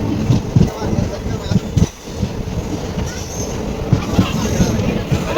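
A passenger train rolls into Gutti railway station with a loud, continuous rumble of wheels on rails, rhythmic clacking and a brief squeal. A voice talks over the noise.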